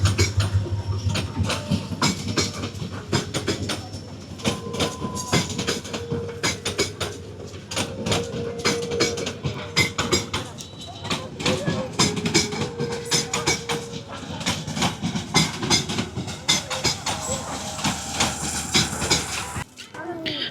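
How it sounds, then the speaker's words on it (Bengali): A train slowly pulling out of Laksam Junction, heard from a crowded spot: a steady rumble with rolling clatter and faint hissing, with crowd noise throughout. "একটা ট্রেন লাকসাম জংশন থেকে ছেড়ে আস্তে আস্তে চলে যাচ্ছে"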